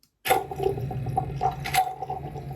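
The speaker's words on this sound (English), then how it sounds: "That noise is common in a coffee maker" A Keurig coffee maker gurgles and sputters as water bubbles through at the end of its brew cycle, with small drips and spurts, close and fairly steady.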